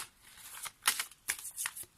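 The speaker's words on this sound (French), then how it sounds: "on va prendre une carte issue de mon oracle message des anges" Cards from an angel oracle deck are shuffled and handled, giving several quick papery riffles and slides, close and soft, with no talking.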